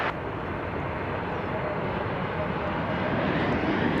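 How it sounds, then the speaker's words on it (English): An American Airlines airliner arriving at Dallas Fort Worth airport makes a broad, steady jet roar that stays loud and continuous throughout, with no voices over it. "We'll just have to settle for American Airlines Flight 2029 arriving from El Paso."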